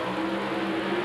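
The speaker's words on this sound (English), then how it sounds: "You'll hear the RPM going up." A Pro Stock drag racing car engine held at high RPM at the start line during a 1989 NHRA national event, a loud steady droning roar with a sustained tone throughout, no talk over it.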